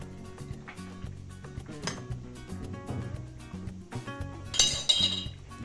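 Small idli bowls clink and tap against one another as ghee is spooned into each, a series of light metallic clinks and clatters, close and fairly quiet.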